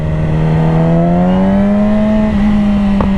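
A motorcycle engine drones steadily while riding, a loud close hum whose pitch rises slowly and holds, with wind noise underneath.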